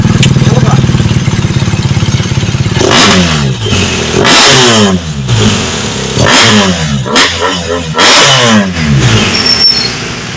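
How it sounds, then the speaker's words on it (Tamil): A BMW R 1250 GS HP motorcycle engine starts and revs, its boxer twin blipping up in four or five loud, close, sharp surges over a steady idle, with no talk. "ஜஸ்ட் ஸ்டார்ட் பண்ணும்போது மட்டும் எப்படி இருக்குன்னு பாருங்கள் ஸ்டார்டிங்ல சவுண்ட் வேற லெவல்ல இருக்கு"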